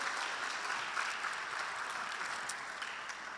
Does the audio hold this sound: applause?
yes